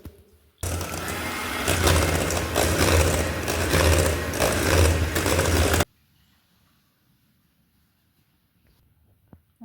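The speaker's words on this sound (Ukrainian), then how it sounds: "Збиваємо білки з цукром, що залишився до стійкої піни." Electric mixer whisking egg whites with sugar into a stiff foam for a tiramisu dessert, a loud steady whirring burst of about five seconds that then cuts off to near silence.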